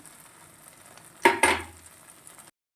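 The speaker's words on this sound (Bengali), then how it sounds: "লঙ্কার গুঁড়ো দিয়ে দিচ্ছি" Chili powder and turmeric fry with tomato in a pan, giving a faint sizzle broken by two sharp, loud clatters of a utensil against the pan.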